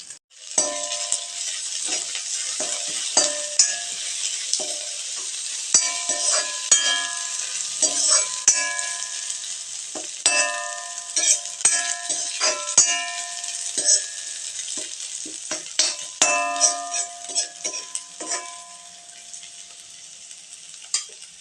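Onions sauté in a metal pan, with a metal spoon clanging and ringing against the pan in frequent bursts over a soft, steady sizzle, close and fairly loud.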